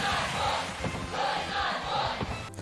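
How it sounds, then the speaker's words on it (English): A video game crowd in Super Smash Bros. chants rhythmically for the fighter Roy, repeated group shouts rising and falling in a steady cadence, fairly loud and alone. "In the Super Smash Bros. Games, at random times, a crowd of people will start doing a chant for one of the fighters being played."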